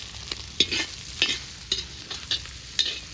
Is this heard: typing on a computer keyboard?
no